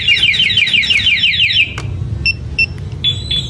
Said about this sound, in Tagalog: Testingin naman natin yung two-way alarm.